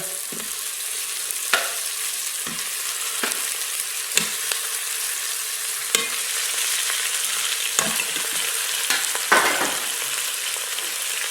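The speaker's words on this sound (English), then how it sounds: "Now we're going to go ahead and add our beef short ribs back in." Beef short ribs sizzle in hot fat inside a pressure cooker, a steady close frying hiss with scattered pops and crackles and occasional clinks, no voices.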